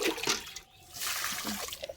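Water poured onto dry garden soil around table rose, moss rose and portulaca plants, a steady splashing trickle with a short pause midway, close and fairly quiet.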